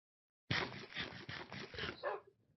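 A Minecraft dog barks and growls in a rapid series of rough, close yaps lasting about two seconds after brief silence.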